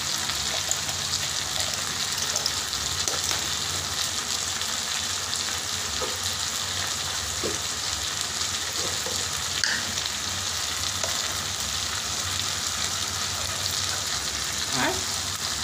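Spices with garam masala and a little ghee fry and get stirred in a pan, a loud continuous sizzle with scattered scraping and clinking of the spatula, no talk, for about sixteen seconds.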